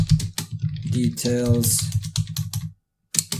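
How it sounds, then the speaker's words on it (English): Someone types on a computer keyboard while coding a GatsbyJS site, a dense run of clicks under continuous talking, then a short pause and a few more keystrokes. "typing and talking at the same time is so difficult"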